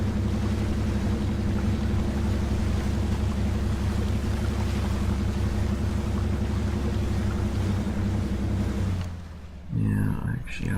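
A tractor in the off-road driving game Spintires: Mudrunner plows through a river with a steady, loud, low engine drone and rushing water noise, cutting out abruptly near the end.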